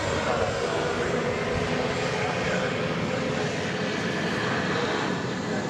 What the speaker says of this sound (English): American Flight 294 from San Antonio is now about to touch down. 737-800.